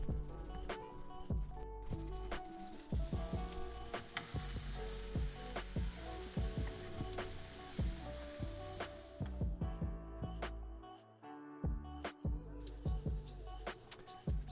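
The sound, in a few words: Brussels sprouts with bacon and butter sizzling in pan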